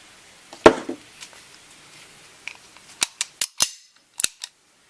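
Röhm RG 88 blank pistol fired outdoors: one loud sharp report, then a rapid string of five more cracks near the end, each crisp and short with quiet gaps between.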